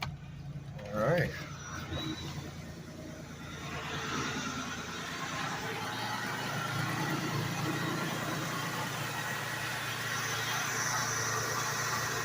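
A 1990 Trofeo engine fitted with a new belt-driven alternator cranks over and settles into a steady, fairly quiet idle, heard close with a person speaking over it at the start.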